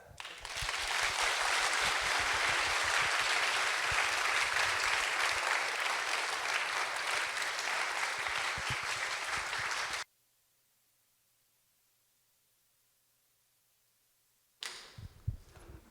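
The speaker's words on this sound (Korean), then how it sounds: "우리 교수님 나오실 때 큰 박수로 환영하겠습니다" Loud, sustained applause from a church congregation welcoming a seminary professor before an evening lecture on eschatology, clapping steadily for about ten seconds, then silence before a brief return of sound.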